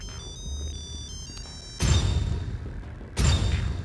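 A mobile phone ringtone plays soft, melodic electronic tones in a comedy film scene, then heavy thumps and dense noise crash in twice and cover it.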